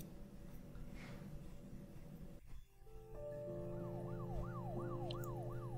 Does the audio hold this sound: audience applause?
no